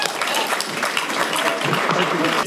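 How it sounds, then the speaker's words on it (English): An audience claps for a retired Marine lieutenant general arriving on stage, a fairly soft, even wash of applause that holds steady for a couple of seconds. "would you give the General a round of applause?"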